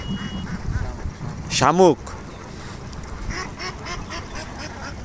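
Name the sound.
ducks quacking in a field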